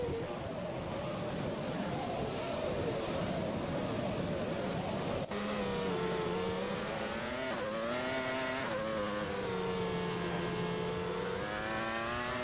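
Formula race cars roar past at the Australian Grand Prix, a dense high-pitched engine howl with rising and falling revs, loud and continuous, one car's pitch sweep overlapping another's.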